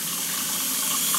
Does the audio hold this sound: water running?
yes